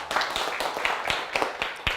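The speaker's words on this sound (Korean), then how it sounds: "박수로 마무리하겠습니다" Brisk, closely spaced handclapping from an audience at a lecture, a rhythmic run of sharp claps at close range.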